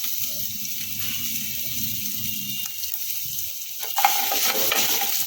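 Chopped ginger and garlic sizzle steadily in a hot pan, with soft stirring scrapes and a sharper burst of frying near the end as more goes in, no voices.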